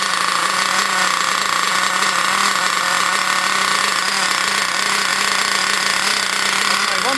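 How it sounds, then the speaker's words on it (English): Ansmann Virus 2.0 BigBlock nitro engine being run in, a loud, steady, high-pitched buzzing whine that holds constant and close with no speech. "If you listen to the pitch of the engine, it should increase."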